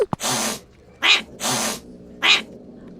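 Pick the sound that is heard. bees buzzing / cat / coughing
cat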